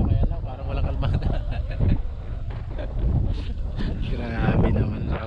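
Strong gusting wind roars and buffets the microphone outdoors in trees during a crossbow hunt, a loud continuous rumble with low-frequency blasts and rustling, while voices are faintly present underneath.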